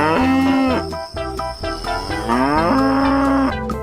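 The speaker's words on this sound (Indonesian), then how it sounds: "lihat teman-teman, ada sapi lucu." Two long, loud cow moos sound up close in an animal rescue truck simulation game, each a drawn-out bellow with a short gap between them and no talking over them.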